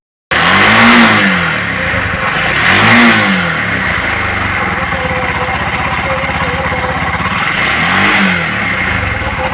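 Petrol Bajaj Maxima X Wide auto rickshaw engine running steadily after a fuel injector change, a loud close-up idle with a rhythmic throb and several swelling revs over the continuous drone.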